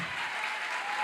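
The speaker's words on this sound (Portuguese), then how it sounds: "Pode aplaudir ele." A church congregation breaks into dense, steady applause for the preacher, a brief, even wash of clapping with no voices over it.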